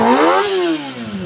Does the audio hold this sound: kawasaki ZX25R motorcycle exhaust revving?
yes